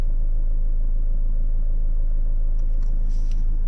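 Inside a 2025 Toyota Prado 250 GX driving off-road in high range with the centre diff locked, a steady loud low rumble of engine and drivetrain as the wheels spin, with faint clicks and rattles near the end.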